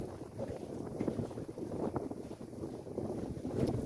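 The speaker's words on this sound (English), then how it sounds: "And there's a nice steady wind out here," A steady wind roars across the microphone aboard a 5-metre sailing dinghy at sea, a constant, loud, broadband rush with slight gusting and no voices.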